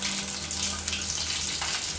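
Cheese balls deep frying in hot oil, a steady dense sizzle and bubbling close up, continuous and even throughout with no voices.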